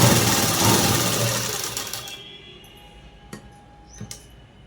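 A sewing machine stitches cloth for a collar-neck dress, running loud and fast for about two seconds before stopping, followed by a few faint clicks and knocks as the fabric is handled.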